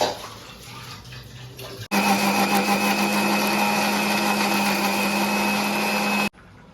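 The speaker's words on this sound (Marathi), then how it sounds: "हे आंगडे आता आपण मिक्सरला लावणार आहोत याची आपण प्युरी करून घेणार आहोत" A kitchen mixer grinder purees crab shells, starting abruptly with a loud steady whirring drone for about four seconds before cutting off sharply, close by and without talk.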